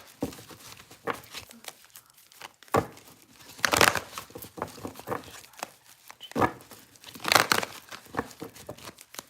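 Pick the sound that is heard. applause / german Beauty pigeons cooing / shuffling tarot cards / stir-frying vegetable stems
shuffling tarot cards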